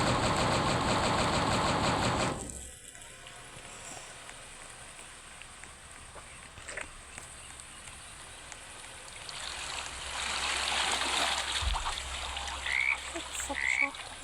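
Frog croaking in the game 99 Nights in the Forest rises from a dense, rain-like wash of ambience. Loud chorus at first, then quieter rustle, then the croaks swell again near the end.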